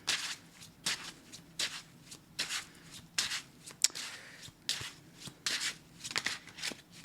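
Tarot cards being shuffled in repeated bursts, close and crisp, with a steady riffling rhythm roughly every half second and no talk over it.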